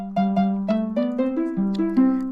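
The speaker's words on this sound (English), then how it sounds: "And that is the Mario death theme." Tuned Minecraft note blocks play the Mario death theme as a short stepped melody of about ten plucked notes, each bright and distinct, close and clean with no talk.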